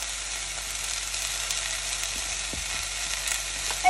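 Green peas sizzle steadily in a hot pan as they are stirred, a close, even hiss of frying with faint scrapes underneath and no voices.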